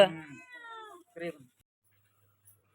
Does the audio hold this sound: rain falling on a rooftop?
no